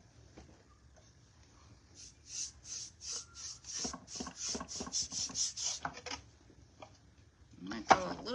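Wax being rubbed by hand onto a painted, thrifted wooden shelf, heard as a quick run of soft, close scrubbing strokes in a steady rhythm, with a brief voice near the end.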